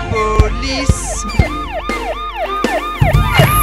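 Cartoon police car siren in a French children's song about vehicles, a loud two-tone wail sweeping up and down repeatedly over the music, with sharp percussive hits.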